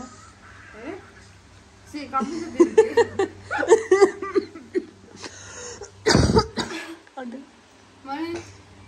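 A sharp, loud burst of coughing breaks out amid chuckling and speech, with laughter and talk continuing around it before and after.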